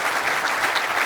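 Audience applause at the opening of the CyCon 2024 conference, a dense, steady clapping from a large crowd filling the whole moment.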